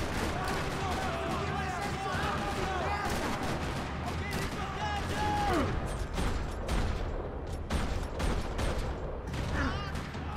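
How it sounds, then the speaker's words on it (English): Sustained gunfire rattles across a parking lot in the Max Payne 3 video game, dense bursts and shots crowding together loudly, with game voices speaking over the barrage. "Another parking lot rattling with gunfire."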